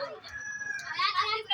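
A rooster crows at a school Children's Day celebration, one short strained call that comes through a noisy, echoing hall under the murmur of voices.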